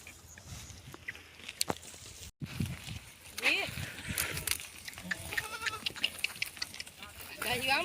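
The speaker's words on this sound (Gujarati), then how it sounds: "બકરા કેટલાક છે? બકરા છે 6-7 જો." A small herd of six or seven goats bleats in several short, wavering calls, some near and some farther off, heard under people talking outdoors.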